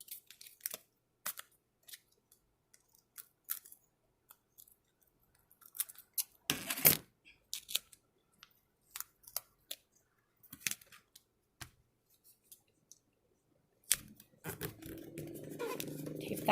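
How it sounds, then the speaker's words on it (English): Duct tape is torn and pressed down while a letterboxing bag is made: scattered close crackles and taps, with a longer ripping tear midway and another sustained rip at the end. "And then I'm going to duct tape those down."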